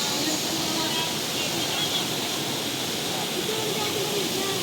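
Clear spring-fed stream water from Mount Banahaw at a forest resort in Nagcarlan, Laguna, rushing in a steady, loud, broadband wash that fills the whole clip, with voices faintly mixed in.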